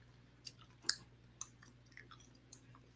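Someone chews crunchy candy with a few sharp, sparse crunches spaced apart, close but quiet over a low steady hum.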